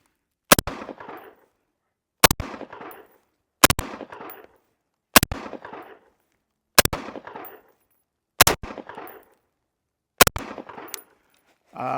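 Tavor X95 rifle fired in a slow series of seven sharp, loud single shots, evenly spaced about a second and a half apart, each followed by a short outdoor echo.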